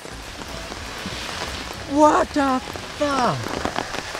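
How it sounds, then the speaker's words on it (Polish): Heavy rain pours down steadily around a bus stop, a constant hiss under excited voices and shouting, with a brief sharp crack of thunder partway through. "Ulewa,"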